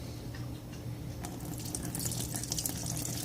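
Tap water runs steadily into a sink while rice is rinsed for a homemade faux makgeolli brew, a close, continuous splashing stream with light sloshing.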